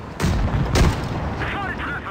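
S35 tank in a tank combat game taking shell hits: two heavy booming impacts in quick succession, loud and close, followed by a lingering rumble and some faint whining tones.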